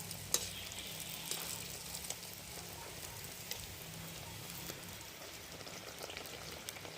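A steady, soft crackling sizzle of malpua batter frying in hot oil, with scattered small pops and no talking.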